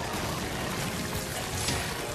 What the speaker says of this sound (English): there's a lot of water